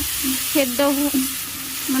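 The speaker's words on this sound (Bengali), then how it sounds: "তারপরে দিয়ে দিচ্ছি একটি টমেটো কুচি। তো টমেটোটাকে আমি এবার একটু ভাজা ভাজা করে নেব" Chopped tomato sizzles steadily in hot mustard oil in a pan for potato bhorta, with close, loud frying crackle and repeated spatula stirring throughout.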